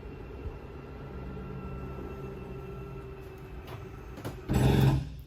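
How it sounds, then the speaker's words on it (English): A slide-out motor on a 2022 Catalina 303RKDS RV runs with a continuous low mechanical drone, then gives a louder, harsher burst near the end as it hits its stop; no talking. "So when it fully extends, you'll hear that scary noise once again."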